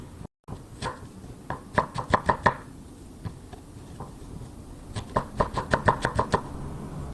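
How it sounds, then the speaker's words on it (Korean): A knife julienning a Korean pear on a cutting board, with quick, crisp taps in two close rhythmic runs separated by a short pause, heard up close with no talking. "그리고 또 일정하게 채를 썰어줍니다."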